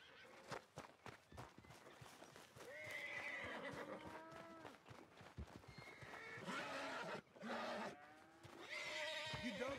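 A horse in the video game Red Dead Redemption 2 whinnies several times, loud and close, with hoof clip-clops and shuffling between the calls.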